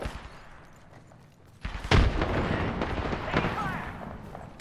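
A frag grenade explodes in Apex Legends with a sharp, loud blast that rolls into a sustained rumble and crackle. A voice speaks faintly beneath the fighting noise.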